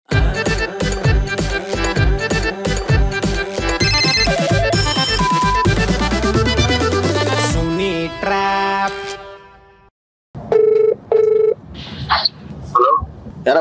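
A phone call is placed for a prank, with a loud electronic musical tune playing in busy repeating bursts, then a brief silence, followed by separate short tones like a ringing line.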